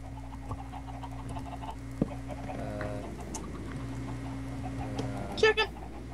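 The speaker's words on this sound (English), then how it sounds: "those chickens are freaking annoying" Short, scattered clucks from chickens in the video game Minecraft, a few faint calls over a low steady background hum, with one louder burst near the end.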